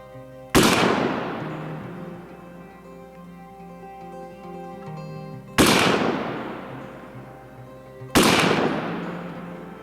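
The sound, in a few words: rifle shots fired from Civil Defense SPR Stoner clone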